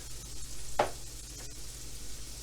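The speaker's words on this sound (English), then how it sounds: "I'll do a quick saute of the green onion, and then I'll add the salmon to heat it up" Green onion sautéing in a pan, making a steady, close sizzle with one brief stirring scrape.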